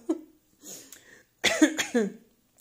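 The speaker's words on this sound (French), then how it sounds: "J'ai voulu tousser et avaler en même temps, ça fait un drôle de bruit." A few sharp, throaty coughs made while swallowing, with a gulping, strained quality, close up and isolated, separated by brief silences.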